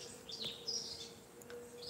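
Small birds chirp faintly in trees at a distance, with scattered short high tweets and calls over a steady hum and low background noise.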